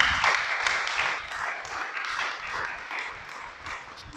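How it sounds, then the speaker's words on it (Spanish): A church audience gives the Creator a sustained round of applause during a Torah teaching, dense clapping that stays steady and fairly loud before easing slightly toward the end. "Dale un aplauso al Creador."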